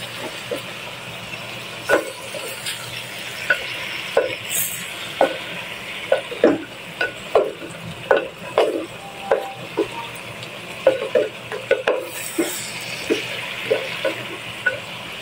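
A dish being stirred in a pot before vinegar is added, with repeated spoon scrapes and knocks against the pot in an irregular rhythm over a low simmering hiss, close by.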